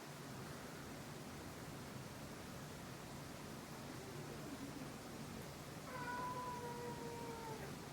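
A cat gives a drawn-out meow late on, faint beneath the steady broadband whoosh of a 36-inch Emerson Designer Series ceiling fan running throughout.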